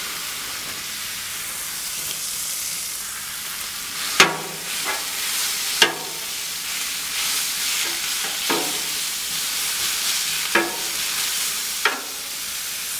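Carne asada sizzles in oil on a hot Blackstone griddle, a steady hiss punctuated by several sharp scraping clacks of a spatula at irregular intervals, close and fairly loud, with no talk.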